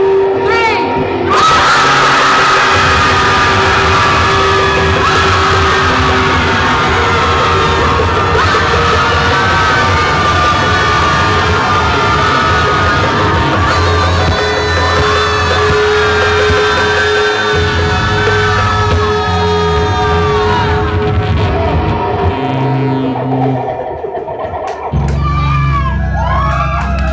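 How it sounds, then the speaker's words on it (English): A crowd yells and shouts together on a count of three, a loud, dense mass of voices sustained for about twenty seconds before it tapers off and falls quiet. "So on the count of 3, feel free to let out a breath, a yell, a word, anything you would like."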